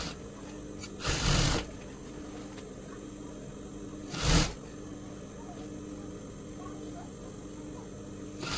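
Two short bursts of sewing machine stitching on a blouse seam, each about half a second, separated by a quiet pause over a steady low room hum.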